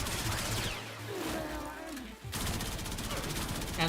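Rapid bursts of gunfire from a weapon in the video game Warframe, with dense repeated body shots. The firing is loud, continuous, and close, and a short quieter gap breaks it in the middle.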